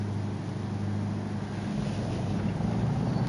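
A race car engine in Gran Turismo 7 gives a deep, low rumble that holds steady and slightly swells, moderate in level and heard without voices.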